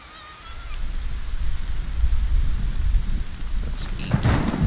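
Heavy rain hisses steadily in the survival game The Infected while deep rumbling thunder rolls underneath, swelling near the end with a brighter crash of rain and thunder.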